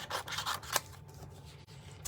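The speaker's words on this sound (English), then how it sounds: "And now I'm going to cut out" Scissors snipping leaf shapes out of card stock for a handmade card, a few quick close crisp cuts and rustles of paper, alone and fairly quiet.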